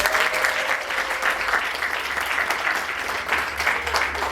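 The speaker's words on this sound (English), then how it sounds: "Can we give a clap?" An audience at a book launch gives steady, fairly loud applause, many hands clapping continuously throughout without letting up.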